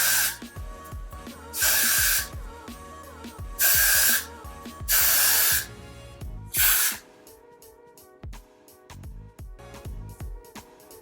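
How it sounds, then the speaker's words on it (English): Aerosol product sprayed onto a wig stocking cap in several loud, broad hissing bursts of one to two seconds each, followed by fainter handling clicks and taps. "I just kind of spray and like move it back"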